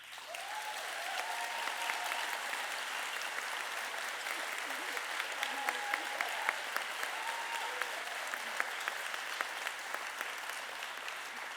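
Steady applause from a crowd claps continuously throughout, a dense even patter with no voices standing out.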